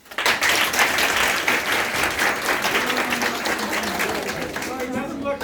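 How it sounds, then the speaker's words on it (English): A school audience applauds a visiting science team during a Science Week visit, sustained dense clapping from many hands that stays loud throughout and tapers only slightly at the end. "Let us give the team a round of applause."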